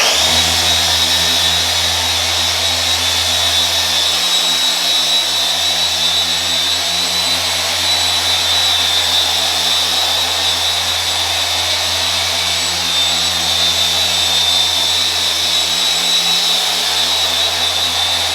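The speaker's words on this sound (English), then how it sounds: "then I'm going to bring the polisher back, work it this way across the table" An electric polisher buffs wax across a table surface, a loud, close, continuous motor drone that holds steady for the whole stretch without pauses or talk.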